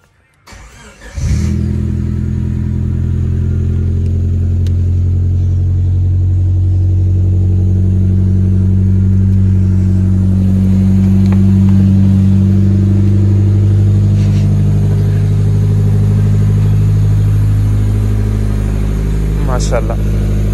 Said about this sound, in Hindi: तो जी ये पहली दफा स्टार्ट करने लगे हम।